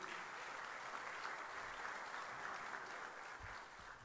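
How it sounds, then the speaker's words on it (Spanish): A church congregation applauds to welcome a speaker at a pastoral event with an archbishop, steady continuous clapping filling the room at an even level throughout, with no voices over it. "Con el aplauso, los recibimos"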